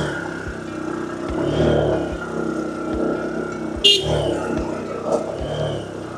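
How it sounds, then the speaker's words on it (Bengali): A motorcycle rides along a road near Modhutila Eco Park in Sherpur: a close, steady engine drone with regular low thumps and a light clatter from the bike. "এই যে বনু রাস্তার মধ্যে দিয়ে বাইক নিয়ে আমরা আগাচ্ছি।"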